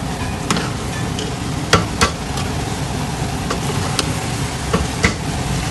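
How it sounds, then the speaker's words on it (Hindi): A spoon stirs carrot halwa mixed with khoya in a pan, with a low, continuous sizzling bed and scattered sharp scraping clicks of the spoon, close and fairly loud, with nobody talking. "अब इसको चम्मच से मैं मिक्स कर रही हूँ ना, ताकि इक्वल सब में खोया मिक्स हो जाए"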